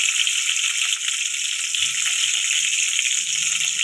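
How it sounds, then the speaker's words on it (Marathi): Cumin and mustard seeds sizzle in hot oil with curry leaves for kanda poha, a steady, bright crackling hiss that runs close and continuous throughout with no talking. "आता आपण त्याच्यामध्ये जिरं मोहरी टाकूया।"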